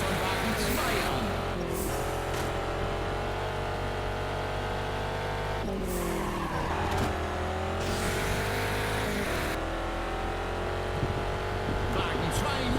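Racing game engines roar continuously in Juiced 2 as race cars drift, with revving pitch sweeps, shifting gears and tire noise, loud and steady throughout, with a commentator's voice mixed in.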